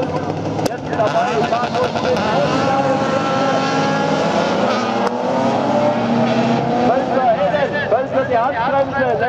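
Rallycross race cars at a national final heat in Gründautal, engines loud and continuous with shifting pitch, under a commentator speaking throughout.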